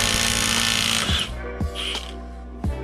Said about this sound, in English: This is where a pry bar or a impact gun really comes into hand.